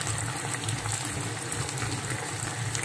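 A pan of chili sauce for Sichuan-style eggplant bubbles and boils continuously, a dense, steady hiss and gurgle close by with no talking.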